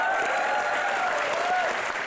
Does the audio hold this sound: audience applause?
yes